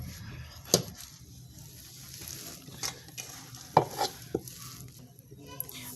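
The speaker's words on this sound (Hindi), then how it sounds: "अब हम इसमें पालक डाल देंगे।" Spinach leaves go into a pot of mustard greens cooking on a stove, giving a soft, steady sizzle with a few sharp clinks and scrapes of a utensil against the pot, fairly quiet and with no talking.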